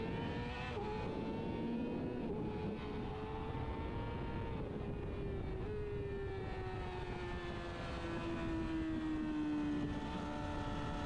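Sport motorcycle accelerating hard on the Buttonwillow race track, a loud continuous engine howl rising steadily in pitch as it is held wide open, with no voices.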